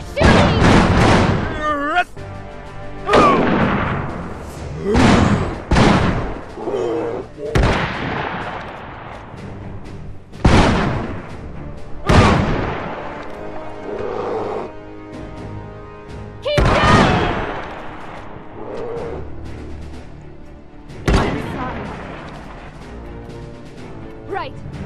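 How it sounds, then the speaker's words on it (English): Gunfire and heavy booms in the strategy game Iron Harvest, with separate loud reports spaced a few seconds apart, each decaying into rumble, mixed with in-game voices. "They're shooting!"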